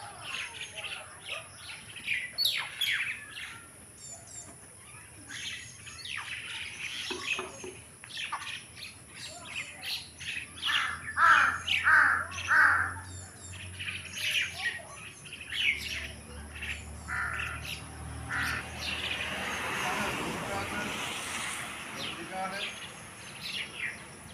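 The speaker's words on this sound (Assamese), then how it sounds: "যেতিয়ালৈকে মানে শোৱাৰ পৰা নুঠে চিঞৰিয়ে থাকিব মানে চৰাইবোৰ" Many birds chirp and call in the early morning, a steady mix of short tweets and squawks at a moderate distance, busiest in the middle stretch.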